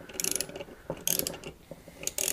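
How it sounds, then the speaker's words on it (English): A wrench spins a nut down the dirty cylinder stud threads of a 1976 Honda Elsinore MR175 motorcycle, giving close, loud bursts of ratcheting clicks separated by short pauses. "If I can get a wrench and run the nut over the threads just to kind of clean them up first."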